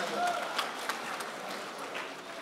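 Audience applause at a mushaira poetry recital, a quiet, steady patter of clapping from a crowd heard from a distance throughout.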